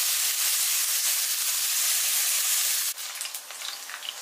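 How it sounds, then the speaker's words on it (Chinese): Pork belly stir-frying in a hot wok, rendering its fat, sends up a loud, steady sizzling hiss that drops suddenly near the end into softer, crackling spatter. "将锅烧热，下入五花肉，给它煸炒出肥油"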